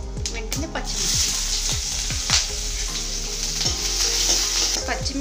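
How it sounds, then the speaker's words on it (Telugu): Mustard and cumin seeds crackle and sizzle in hot oil in a pan, with a steady loud frying hiss broken by repeated sharp pops and spits close by, with no talking. "ఆవాల నుంచి ఆయిల్ రిలీజ్ అయింది ఇప్పుడు జీలకర్ర వేసుకుందాం"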